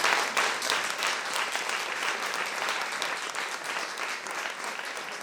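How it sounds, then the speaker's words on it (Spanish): Loud applause for someone speaker at a rural women's gathering in Spain: a sustained, dense roar of many hands clapping, starting strongest and staying steady throughout with no voices on top. "Un aplauso muy fuerte para ella"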